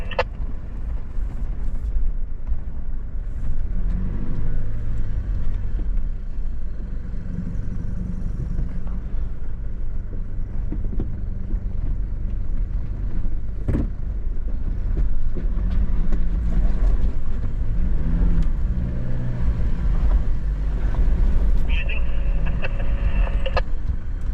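Four-wheel-drive vehicle climbing a trail in the Lawrence Valley with traction control engaged, its engine a steady low drone and rumble throughout with occasional knocks and clunks from the terrain.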